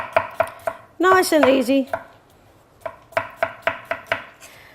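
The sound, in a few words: knife chopping cucumber for tabbouleh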